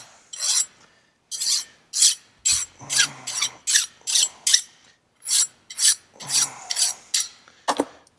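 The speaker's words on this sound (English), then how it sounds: "We'll deburr this thing." Hand file rasping across the edges of a freshly milled metal vise stop, a series of about a dozen short scraping strokes in steady rhythm, close and fairly loud with brief pauses between passes.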